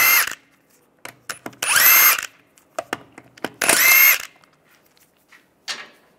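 A power tool with a 17mm socket spins lug nuts off the wheel of a 1998-2010 Volkswagen Beetle: three loud, broadband bursts of whirring, each lasting about half a second, with short clicks and rattles between them and a fainter buzz at the end.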